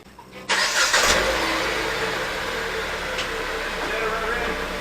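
Jeep Patriot with a 2.4 liter engine under way after a repair for bucking and hesitation, a steady engine and road drone that starts with a thump and then holds a continuous hum from inside the cabin.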